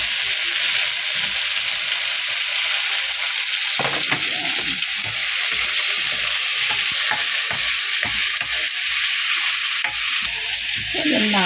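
Onion and garlic frying in a pan as the base for bagoong alamang, a steady loud sizzle with occasional stirring scrapes throughout.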